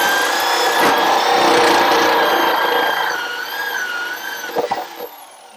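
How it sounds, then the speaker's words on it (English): A 1 3/8-inch hole saw grinds loudly and continuously through an RV floor with a high whining drone, slowing and winding down near the end with a few knocks. "this is where my 1 3/8 hole saw is going to come up through"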